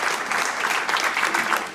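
Church congregation applauding the Holy Spirit during a French-language sermon, a dense steady wash of many hands clapping together, fairly loud and close, with no speech over it.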